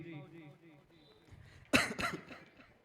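A sudden loud cough bursts out after quiet talking, followed by a second rougher cough close to the microphone.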